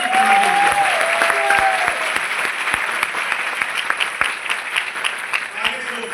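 Clapping from an audience at a network marketing success-story seminar in Bhagalpur, Bihar, rhythmic and loud with distinct sharp claps beating in time alongside a continuous wash of applause, close to the microphone.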